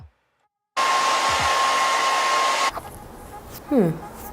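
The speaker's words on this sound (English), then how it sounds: "Pull out your blow dryer." A handheld blow dryer roars steadily for about two seconds while laying down the sideburns of a lace front wig, then cuts off, followed by brief quieter sounds and a short voice.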